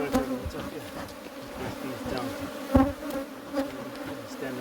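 Honeybees buzz steadily and close by during an open hive inspection, a dense continuous drone with small swells in loudness and no talking.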